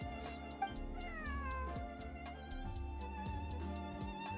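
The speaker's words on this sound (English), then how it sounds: "I take it Bonnie's a pet cat" Cat in the game Genshin Impact meows repeatedly in drawn-out, wavering calls over steady background music, close and clear with no talking.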